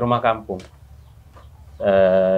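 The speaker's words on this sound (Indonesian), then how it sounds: "Ini banyak suara ayam enggak masalah lah ya" Chickens at a village home cluck and crow in loud, voice-like bursts at the start and again toward the end, with quieter farmyard sound between.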